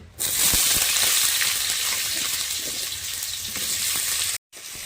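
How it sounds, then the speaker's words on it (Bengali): Potatoes frying in mustard oil in a wok give a loud, steady sizzle and hiss that runs almost without a break, with a short drop near the end. "কড়াতে সরষার তেল দিয়ে দিচ্ছি আলুগুলো ভেজে নেব"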